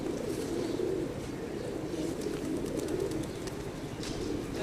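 Pigeons cooing in a steady, continuous low murmur, with several birds overlapping close by and faint higher chirps scattered above.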